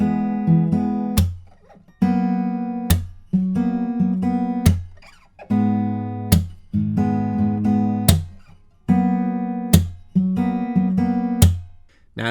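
An acoustic guitar plays a steady fingerpicking pattern over chords, punctuated by a sharp percussive muted slap on the strings every couple of seconds, close and clear with no voice.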